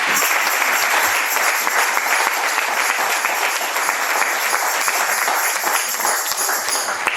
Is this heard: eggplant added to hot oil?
no